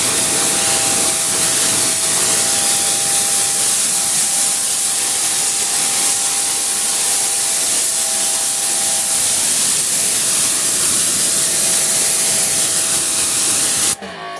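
A Greenworks Pro GPW2700 2700 PSI pressure washer sprays steadily, a loud continuous broadband hiss that holds evenly for about fourteen seconds before cutting off abruptly.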